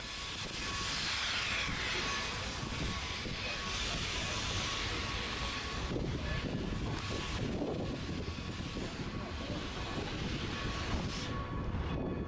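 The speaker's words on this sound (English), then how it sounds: "The locomotive pulling our train today is Nevada Northern number 40, a 460 10-wheeler built by the Baldwin Locomotive Works" Nevada Northern number 40, a 1910 Baldwin 4-6-0 ten-wheeler steam locomotive, pulls a train with a continuous broad rumble and rush of rolling noise, mixed with heavy outdoor wind buffeting the microphone and no break in the sound.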